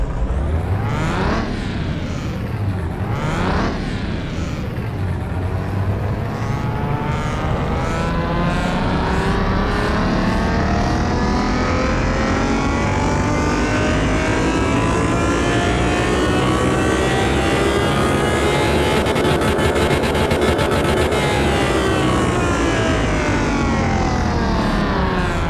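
DeLorean engine in Car Mechanic Simulator 2021 revving hard and holding a loud, continuous roar, with quick blips at first, then a long climb and fall in pitch, close and without talking.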